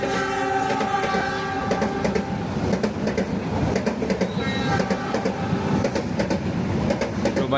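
KA Brawijaya passenger train pulling into an Indonesian station, a loud steady rumble of railcars with repeated clacking wheel beats and horn-like tones held over the rolling noise.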